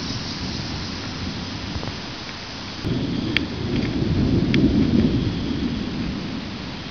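A severe thunderstorm: steady rain patters on surfaces while deep thunder rumbles swell in the middle, close and loud, with no talking.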